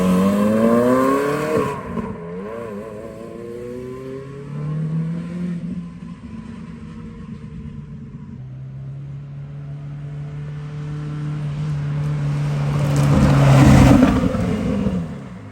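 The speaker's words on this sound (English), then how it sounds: "the final thing to do was to take this manual converted 430 for a drive" Manual-converted Ferrari 430 driving with loud engine revs, rising and falling through gear changes, building to a strong high-revving surge near the end, heard from close by with no talking.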